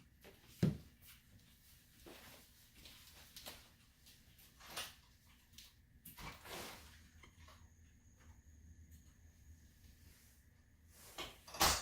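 A door is opened and shut during a test of a Frontpoint home security alarm's door sensor: scattered knocks and clunks of varying loudness, quiet handling sounds between them, and a faint electronic tone near the end.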